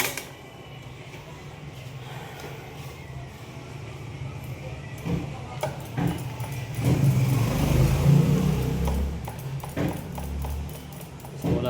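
Car engine cranking repeatedly without catching, a low uneven churning that grows louder and rougher toward the end, with a voice speaking faintly in the background.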